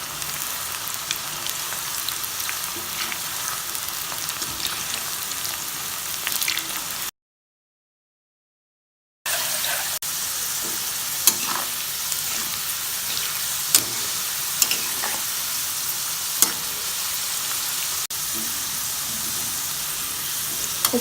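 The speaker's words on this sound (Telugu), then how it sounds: "దొండకాయ ముక్కలు ఫ్రై అయినాయి బాగానే." Ivy gourd pieces coated in rice flour and gram flour deep-frying in oil over medium flame, a steady close sizzle with crackling pops, briefly cut to silence before resuming.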